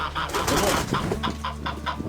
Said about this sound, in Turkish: Bak tavuk.